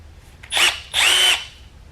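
A handheld power drill with a reamer chucked in spins up in two short bursts, a high whirring whine rising and cutting off each time, close and alone.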